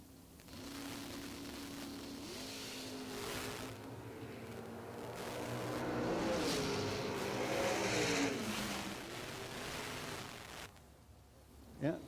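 Drag race cars, one of them a Monza, at a doorslammer event: a sustained engine roar swells and fades over several seconds, heard at a distance beneath a track announcer's voice, ending with a short sharp burst.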